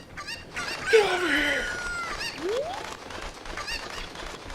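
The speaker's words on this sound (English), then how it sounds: "Alright, shut up, chicken." Chicken clucks and squawks from The Legend of Zelda: Ocarina of Time: several loud, close, rising and falling calls in quick succession over faint in-game background noise.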